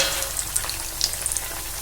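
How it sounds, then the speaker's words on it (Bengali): A gram flour kachori dropped into hot oil fries with a continuous close hiss and crackle, small bright pops scattered through it, no talking. "দেখুন প্রথম কচুরি কিন্তু তেলে ছেড়ে দিলাম।"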